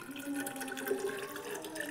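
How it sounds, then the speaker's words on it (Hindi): Hot water poured into a container at home, a short steady splashing trickle with bright liquid gurgle, close and fairly quiet, with no talk. "पानी रख रहे हैं देखिए"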